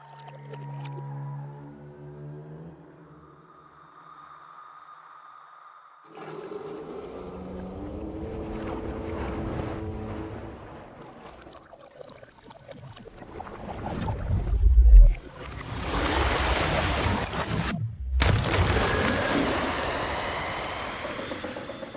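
Water-themed horror creature sound design: eerie whale-like moaning tones open into a churning, watery roar with surging splashes and a sharp impact, swelling and cutting off abruptly before a final noisy wash.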